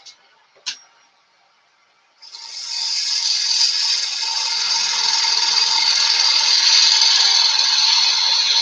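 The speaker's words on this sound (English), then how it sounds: "Try and get in there with a gouge." A gouge bites into spinning wood on a lathe, starting after a couple of brief knocks and settling into a continuous, loud, close rasping cut that holds steady to the end.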